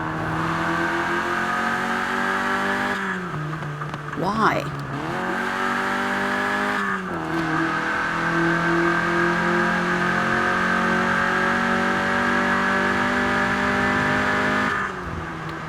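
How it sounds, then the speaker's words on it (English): Peugeot 205 Rallye in Forza Horizon 4 revs loudly and steadily, its small engine whining with harmonic pitch sweeps as it lifts off and climbs again, while a voice briefly talks over it. "The engine is so loud."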